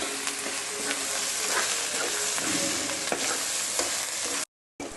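Spices sizzle and fry steadily in a pan as a mixed vegetable pickle is prepared, with scraping stirring strokes over a dense hiss; the sound cuts off briefly near the end.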